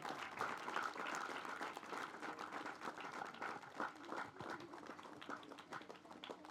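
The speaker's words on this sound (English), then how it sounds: "deserve a big round of applause." Big round of applause for a field team at a children's charity celebration, dense steady clapping from a crowd filling the whole stretch at even loudness.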